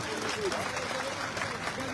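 Applause from a crowd at a Maratha community meeting, a broad steady wash of clapping lasting about two seconds, with voices mixed in.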